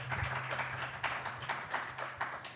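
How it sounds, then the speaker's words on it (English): Audience applause at a 2024 university student presidential debate, steady scattered clapping from a crowd filling the room, moderately loud and continuous with no talk over it. "A round of applause for him as well."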